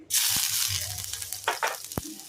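Ginger pieces drop into hot oil for vegetable manchurian and set off a loud, steady sizzle that starts abruptly and holds, with a few spoon scrapes and taps near the end.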